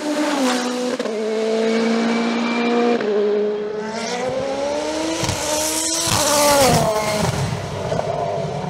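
An Osella PA30 Turbo race car climbs the Abreschviller–Saint Quirin hill climb, its turbo engine screaming loud and close, rising through gears with brief dips at each shift, then sweeping past with a sharp rise in pitch.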